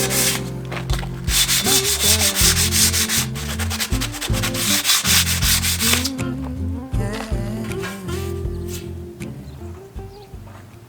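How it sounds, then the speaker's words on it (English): Close, steady sanding strokes rasp over a surface being prepared for Hammerite rust paint, in continuous rhythmic passes with brief pauses, loud and alone without talk. "I'm gonna sand this baby"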